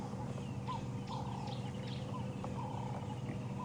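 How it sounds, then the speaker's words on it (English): Birds give repeated short alarm calls on a morning safari drive in the African bush, several buzzy notes spaced through the steady outdoor background at moderate distance. "You may be able to hear that alarm calling from the birds going bzz, bzz, bzz, bzz, bzz, bzz."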